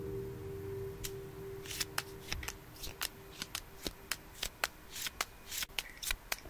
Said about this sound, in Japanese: ではカードを切っていきます。